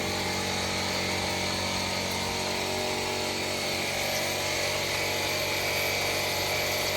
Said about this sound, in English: You can hear the compressor running in the background.